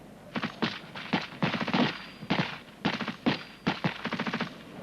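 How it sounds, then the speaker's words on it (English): A British Army section fires rapidly with rifles in bursts of repeated cracks in quick, overlapping volleys, several clusters spaced across the stretch, loud and close. "Rapid! Fire!"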